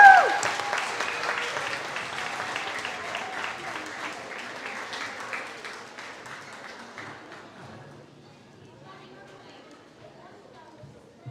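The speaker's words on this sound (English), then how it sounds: "So let's give a big round of applause and welcome Roger onto the stage." An audience at a live family festival stage event applauds, a loud burst of clapping and cheering that slowly thins and fades over several seconds.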